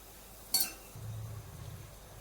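Moringa leaves frying over a low flame in a pan, a sharp metallic clink of a utensil against the pan followed by a soft, steady low sizzle and stirring.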